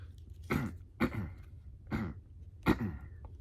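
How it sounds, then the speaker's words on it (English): Four short throat-clearing rasps in a loose rhythm, quiet and close, with no talking. "Sorry to clear my throat there."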